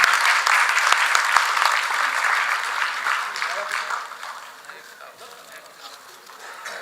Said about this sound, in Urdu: ایک بار تالیوں کی گونج۔